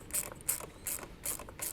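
A wrench ratchets in quick, repeated clicking bursts while tightening a nylock nut with a washer onto a LED driving light bolt on a Kawasaki KLR650, close and clear.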